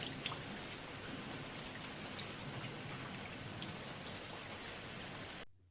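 Steady rain falls and patters densely on surfaces, a constant even wash of drops lasting several seconds before it cuts off.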